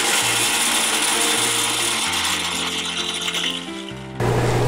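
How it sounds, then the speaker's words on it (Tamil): An electric mixer grinder pulverizing roasted chilies, coriander, lentils, fenugreek, pepper and cumin into powder: a loud, steady mechanical whir with rattling grit that shifts pitch as the load changes, then surges sharply near the end. "அதை நம்ம இப்போ பொடிக்க போகிறோம்."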